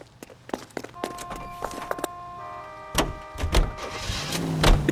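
Game car in L.A. Noire Remastered, with door thumps, footsteps and a short engine start and rev, all fairly close, under a steady tonal background hum.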